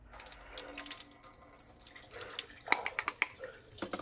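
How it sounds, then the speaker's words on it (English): Running tap water splashes over soaked rice being strained in a kitchen sink, a steady rushing flow followed by sharper drips and taps as the water drains. "I'm just going to strain off the rice a little bit."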